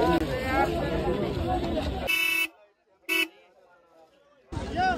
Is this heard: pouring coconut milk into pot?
no